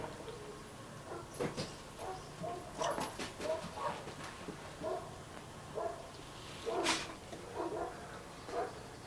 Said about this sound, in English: It's making those dogs bark over there.